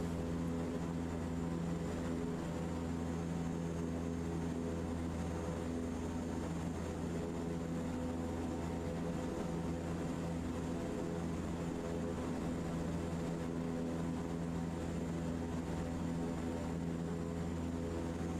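Steady, loud propeller aircraft engine drone from Microsoft Flight Simulator 2024, a continuous tonal hum with strong low harmonics throughout, no voices.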